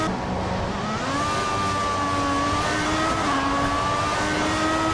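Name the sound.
Formula 1 car engine on a qualifying lap, F1 2014 video game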